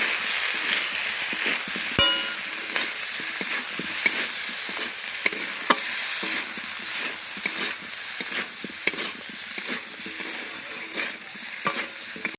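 Kashmiri chilli and turmeric powders sautéing for a kuche fish curry: a loud, dense, continuous sizzle near the mic with irregular light clicks and scrapes of stirring throughout.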